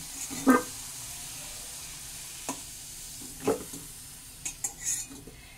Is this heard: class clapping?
no